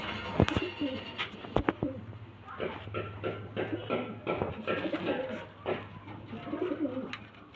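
Pigeons for sale coo repeatedly in close, throaty bursts, rising and falling in rhythm, with someone talking at times among them.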